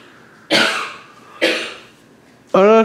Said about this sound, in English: Oh no, she's coughing.